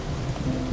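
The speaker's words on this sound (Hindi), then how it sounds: "इतनी बारिश हो रही है, कहाँ जाओगी तुम?" Heavy rain pours down in a steady, dense hiss, loud and close, with no break over a brief moment.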